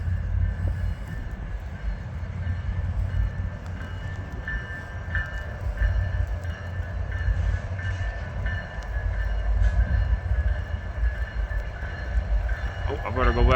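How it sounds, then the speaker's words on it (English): A train rolls through a snowy Illinois town with a steady, heavy rumble of wheels and cars. Faint tonal squeals and horn-like tones sit above the rumble, and a voice talks in the background. "We'll have a good snow train rolling through here."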